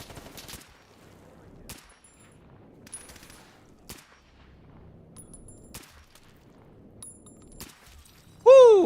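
SVDS rifle with conversion kit firing armor-piercing rounds in a video game: a series of sharp, fairly quiet single shots spaced about a second apart, followed by a loud sudden burst at the end.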